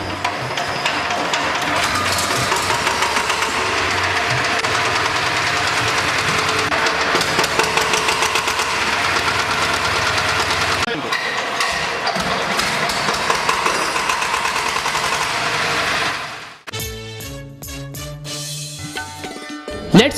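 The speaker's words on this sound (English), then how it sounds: "Rotate it speedily and leave the decompressor lever to start the engine." A VST Shakti 130 DI power tiller's diesel engine runs loud and steady, knocking in a fast, even rhythm close by, then drops away near the end to sharp metallic clatter.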